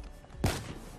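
A single sniper rifle shot in the Black Ops 3 beta: one sharp, loud burst with a short decaying tail, then quiet game ambience.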